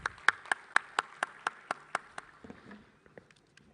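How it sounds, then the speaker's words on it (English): A short run of about a dozen evenly spaced, sharp claps, a single person or small group rather than a full audience, welcoming the ISRO chairman at a National Space Day ceremony. The claps are fairly loud at first, then soften and thin out near the end. "with a round of applause"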